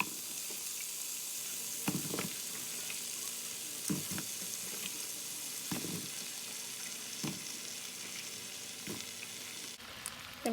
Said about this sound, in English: I'm just going to fry up the Brussels sprouts